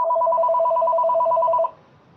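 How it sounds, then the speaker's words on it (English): A telephone rings with a steady, rapid warbling trill that continues for about a second and a half and then stops abruptly, leaving faint room noise. Nobody speaks over it. "Whoever's phone's ringing, can you mute yourself?"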